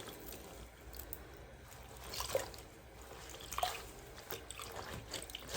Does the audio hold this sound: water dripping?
yes